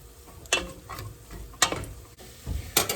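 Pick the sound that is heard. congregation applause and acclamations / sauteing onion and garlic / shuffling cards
sauteing onion and garlic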